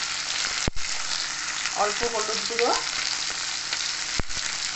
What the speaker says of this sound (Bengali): তেল গরম হয়ে গেলে আমি কুঁদরিগুলোকে ভেজে নেব।